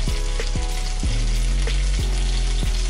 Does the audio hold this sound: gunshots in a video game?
no